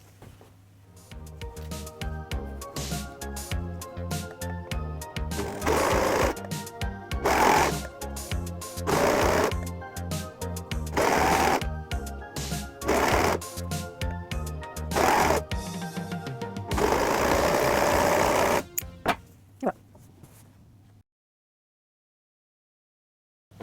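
A domestic sewing machine stitching jersey trousers, running in repeated bursts with a fast rhythmic whirring and thumping, pausing briefly between runs before stopping, then near silence.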